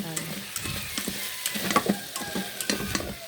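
Garlic, onion, ginger, chicken and longganisa sizzle in a hot pan for macaroni sopas, with a steady fry hiss and frequent scraping clicks of a utensil stirring the mix.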